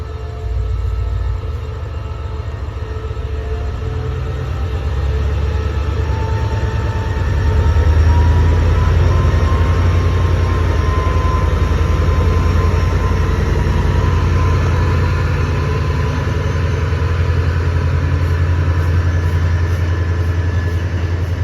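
Train at Ayutthaya railway station in the early morning, a steady low diesel rumble with rolling wagon noise that builds slightly and holds close and loud throughout, with no talk.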